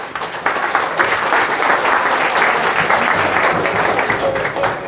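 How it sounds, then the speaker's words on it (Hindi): A classroom of students claps for themselves in sustained, dense applause lasting several seconds, loud and steady throughout. "एक बार ताली बजाएंगे अपने लिए"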